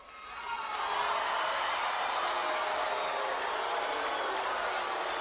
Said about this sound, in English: They're already booing?